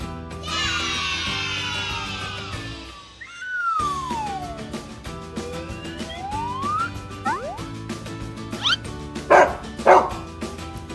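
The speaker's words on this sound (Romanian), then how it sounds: "E un câine!" A dog barks over bright, playful children's music with whistles and slide sounds, a few sharp barks and yips clustered near the end, fairly loud and close.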